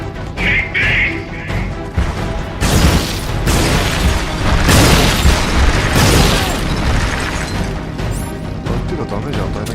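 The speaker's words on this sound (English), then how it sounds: "Main cannon ready to fire!" Heavy tank main cannon blasts in a video game battle, loud booming crashes and explosions filling the scene with continuous rumbling combat noise, with voices speaking over it.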